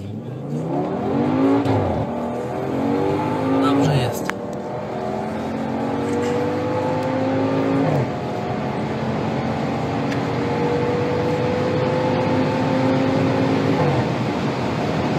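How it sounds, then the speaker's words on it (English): A tuned 800 hp Audi RS6 engine revs hard in a tunnel through repeated rising and falling sweeps, with sharp pops and crackles between shifts, loud and close throughout. "you'll be absolutely shocked at the noise this car makes."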